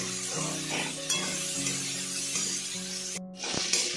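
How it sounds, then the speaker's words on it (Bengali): Okra and potatoes are stirred with spices and scraped around a pan with a soft, continuous rustling and sizzle, with a brief clatter near the end. "এবার আলু আর ভেন্ডিটাকে আমি ভালোভাবে মশলার সঙ্গে মিশিয়ে নেব।"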